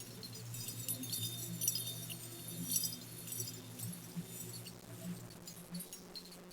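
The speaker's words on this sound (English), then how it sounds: "I can hear a distant tingling sound like crystal bells." Faint, distant tinkling like crystal bells drifts in soft scattered chimes over a low steady hum in the ambience of The Longest Journey video game.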